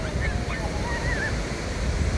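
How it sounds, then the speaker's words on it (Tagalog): Ocean surf churns and rushes continuously through the Pancake Rocks blowholes, a loud watery roar with wind buffeting the microphone. "Lakas ng alon eh, diretso yung tubig doon sa taas."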